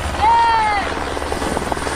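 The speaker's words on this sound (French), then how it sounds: "Il y a l'hélico de la télé qui arrive." A TV helicopter arrives over a Tour de France stage, its rotor chop and engine forming a steady whirring drone that holds at a fairly close distance, with a brief whistling tone early on and voices nearby.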